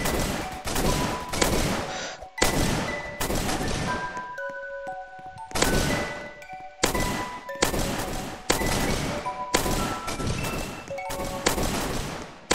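Gunfire from a gun in the Roblox game Zombie Attack, loud rapid bursts of shots repeating in quick clusters with brief gaps and ringing hit tones between them.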